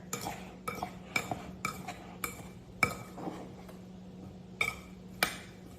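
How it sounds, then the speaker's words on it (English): A spoon works through diced peeled peaches in a bowl, coating them with a mixture: a run of crisp, close clinks and scrapes about every half second, with soft wet shifting of fruit between the strikes. "we're gonna coat the peaches with this mixture"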